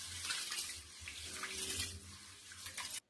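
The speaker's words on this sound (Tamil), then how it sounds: "இது மாதிரி நல்லா தண்ணி ஊற்றி நல்லா இது மாதிரி கழுவி எடுத்துக்கலாம்." Soaked sorghum grains for chola dosai are washed under running water, a continuous close splashing and rushing flow with small sloshing bursts that ends abruptly.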